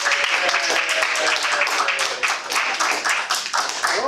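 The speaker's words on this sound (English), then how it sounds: "Applause." Audience applause at a Toastmasters club meeting, dense steady clapping from a small group, fairly close, holding at an even level for the full stretch.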